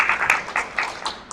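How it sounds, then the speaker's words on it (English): Brief burst of audience applause at a local Black History event in Colmar Manor, Maryland, scattered claps rising and falling over about a second at moderate level. "Come on, we can clap it up for that one."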